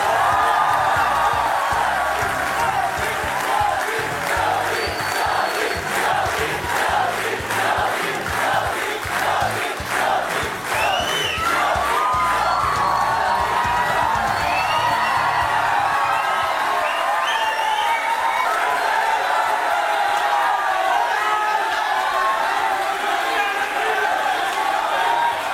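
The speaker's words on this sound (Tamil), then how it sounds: "உங்களோட கரகோஷம் எப்பவும் இப்படியே இருக்கட்டும்." Studio audience of a Tamil talk show applauding and cheering as a chief minister is welcomed, rhythmic clapping with whoops and shouts that swell, then settle into a sustained, loud crowd roar.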